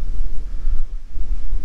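Gusty wind buffets the microphone beside the Murray River, a loud low rumble that swells and dips continuously with no voices.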